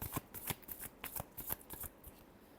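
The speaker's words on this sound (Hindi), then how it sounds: "last shuffle" Tarot cards are shuffled by hand in quick, close riffling bursts, a rapid run of crisp papery flutters and slaps, about a dozen in under three seconds, with no voices.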